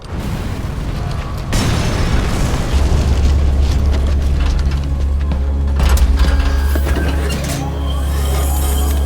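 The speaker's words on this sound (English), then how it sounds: "Though security will be tighter after that explosion." Separator tank explosion in Metal Gear Solid V: The Phantom Pain, a loud sustained roaring blast with deep rumbling, heavy booming low end and crackling debris lasting several seconds, with no talk.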